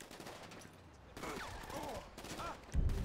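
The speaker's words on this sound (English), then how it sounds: "am I still being shot at?" Gunfire in the video game GTA: faint bursts of shots scattered across a few seconds, with a louder crackling volley near the end, all fairly distant and low in the mix.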